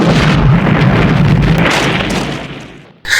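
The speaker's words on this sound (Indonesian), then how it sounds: "saat senjata ditembakkan terjadi ledakan yang sangat dahsyat" A massive, sustained explosion from a powerful weapon being fired roars loudly for about three seconds with a broad rumbling blast, then cuts off and a brief hiss follows.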